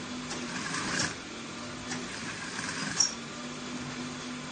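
A sewing machine runs steadily while top stitching a kids' senator top, a faint continuous mechanical hum with a few soft clicks.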